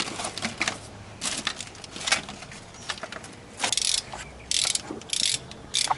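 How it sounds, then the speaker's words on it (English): A torque wrench ratchets in quick bursts while tightening the head bolts on a Jeep Wrangler 2.5 engine after a new head gasket goes on, the clicking coming close and loud in uneven runs with short pauses. "follow this sequence of tightening your bolts up to 22 foot-pounds"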